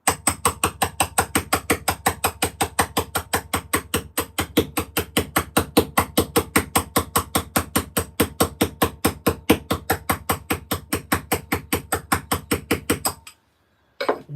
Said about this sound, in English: I actually think this hammer's better for this.